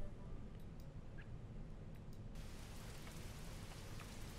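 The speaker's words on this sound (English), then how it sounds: "I love the sound of rain." Rain falls in the fantasy game Regalia: Of Men and Monarchs as a soft, steady hiss of drops, faint and even throughout, with no talk over it.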